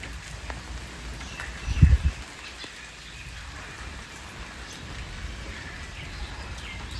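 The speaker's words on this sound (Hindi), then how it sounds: "हल्की हल्की बूंदाबांदी अभी हो रही है।" Light drizzle patters outdoors in a courtyard, a thin steady hiss of drops with a brief low thump near the start, otherwise calm and faint with no talking.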